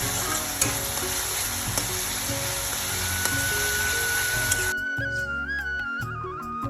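Spice masala sizzles in oil in a pan on the stove while being stirred, with steady frying hiss and scraping; partway through the sizzle drops away to quieter scrapes and a faint whistling tone.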